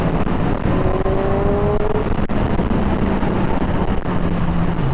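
Kawasaki Z1000 R Edition naked motorcycle, sharing the Ninja 1000 engine, revving loudly and close up, a continuous dense engine roar with rising pitch sweeps over steady wind buffeting.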